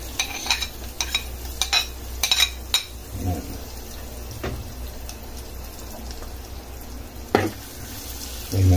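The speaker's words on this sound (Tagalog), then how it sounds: "Ngayon igigisa na natin ang bawang, sibuyas at luya." Garlic sautés in a pan for a lugaw recipe, with a low sizzle under sharp clinks and scrapes of a utensil against the pan, some louder knocks in the first few seconds.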